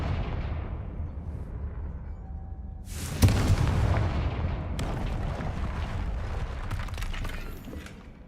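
A Confringo spell explodes in a Harry Potter video game, a sudden loud booming blast that hits after a few seconds of low rumble, followed by rolling debris crackles and smaller bursts that fade.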